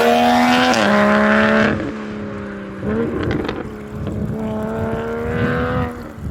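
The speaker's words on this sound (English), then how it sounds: "you're going to hear the sound of the car a lot better whilst I'm driving it" A Toyota A90 Supra with a top-mount turbo drives hard, its engine note rising through the revs in repeated pulls with drops between gear changes; loud, close and heard from inside the car, with no voices.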